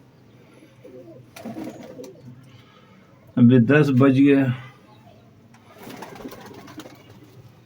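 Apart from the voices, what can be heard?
pigeons cooing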